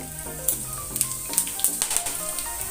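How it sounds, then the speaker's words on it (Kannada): Cumin seeds crackle and sizzle in hot oil in a pan of whole spices for chana masala, a steady close frying hiss broken by frequent sharp pops and spits. "ಇವಾಗ ಜೀರಿಗೆ ಹಾಕ್ಕೋತಾ ಇದ್ದೀನಿ."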